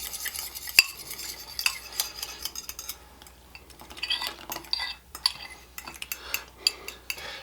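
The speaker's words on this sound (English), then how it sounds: "We're just going to mix it into our graham crackers here to make our crust." Warm melted butter is stirred into graham cracker crumbs in a bowl to form a cheesecake crust, giving close, uneven scraping and gritty mixing strokes in irregular bursts.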